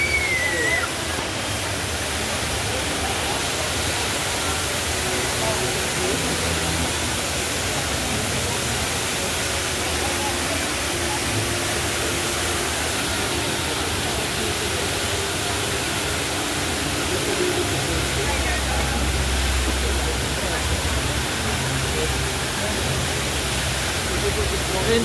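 Indoor waterfall at Jewel, Singapore Changi Airport, a steady broadband rush of falling water filling the whole stretch, with voices talking faintly over it.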